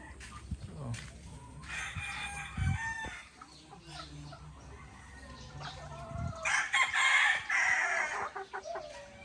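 Gamefowl broodcocks at a breeding station crowing and clucking nearby, several overlapping calls with loud crows rising toward the end, people talking faintly in the background.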